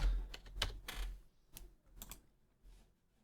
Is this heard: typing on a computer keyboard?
yes